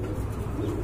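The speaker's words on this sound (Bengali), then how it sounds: "এই যে দেখেন এক জোড়া গিরিবাজ কবুতর" A pair of Giribaz pigeons, offered for sale, coos softly with a low, rolling murmur over a steady background hum, close by and unaccompanied by speech.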